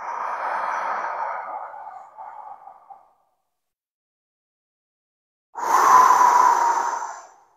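Slow, breathy exhalations during a belly-breathing exercise, close to the microphone: a long steady breath fading out, a few seconds of silence, then another strong airy exhale.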